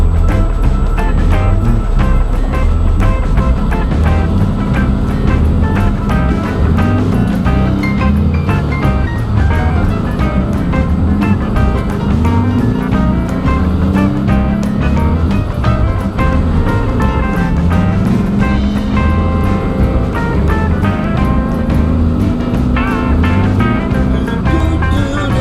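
A 1960 Volkswagen Split Window Single Cab pickup drives along with its engine droning steadily and loud, a continuous low rumbling hum with road noise that never lets up.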